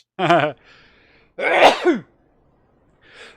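A single sharp sneeze bursts out loud and close, followed by brief faint murmurs and a short word spoken afterward.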